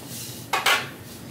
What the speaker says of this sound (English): So I'm gonna remove the lid